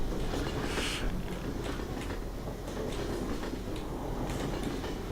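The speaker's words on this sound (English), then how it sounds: "Why does this train sound like it's moving when it's clearly not?" A steady, rumbling video game train interior with continuous rolling noise and faint rhythmic clatter, no voices, holding an even level throughout though the train is stationary.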